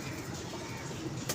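Pigeons coo softly and continuously at a pigeon club, a low murmuring burble over a steady noisy background, with a brief brighter rustle near the end.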